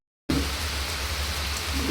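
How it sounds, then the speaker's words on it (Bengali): Heavy rain pours down onto leaves outdoors, a dense steady hiss that starts suddenly after a brief silence and stays loud and close throughout. "দেখুন আবার জোর বাড়ছে বৃষ্টি"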